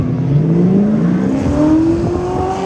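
An Audi RS5 Sportback at a drag strip, running against an old-school Ford Mustang, with a steady engine drone whose pitch rises smoothly as the car accelerates, loud and continuous with no talk.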